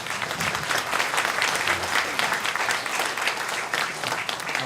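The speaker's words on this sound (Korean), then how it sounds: "잠깐 축하 박수 한번 받습니다." Church congregation applauding to congratulate a newly married couple during a worship service: a dense, steady wash of clapping from many hands fills the room at an even loudness from start to finish.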